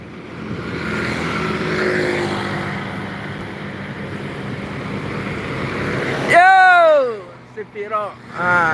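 A red Sempurna Nauli bus roars past on the Lintas Timur road near Palembang, a rising rumble of engine and tyre noise, followed by a loud multi-tone horn blast with a falling pitch sweep.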